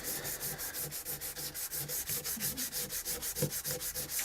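Wood is hand sanded with 220 grit sandpaper while the piece stays clamped, making rapid, even back-and-forth rasping strokes that repeat steadily and close up with no talk.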